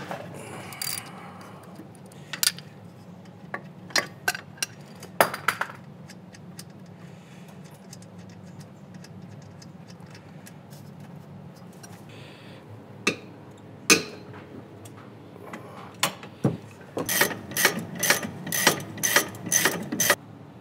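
Ratchet wrench working a 12mm brake line bolt on a Subaru WRX during a big brake kit install, with scattered sharp clicks and knocks over a quiet background, then a quick run of ratcheting clicks near the end.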